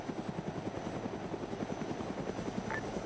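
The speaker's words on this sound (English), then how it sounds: "Is that our chopper heading overhead of the castle?" A helicopter in the military game Arma 3 flies overhead near a castle, its rotor beating in a fast, steady thump over a constant engine whine, fairly loud and with no talk.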